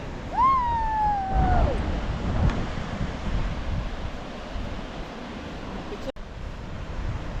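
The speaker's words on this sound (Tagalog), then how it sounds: "rinig naman yung dagat. Yung alon." Sea waves wash steadily onto a beach at Claveria, Cagayan, in the Philippines, a broad continuous surf roar mixed with wind, with a brief high whistling chirp near the start.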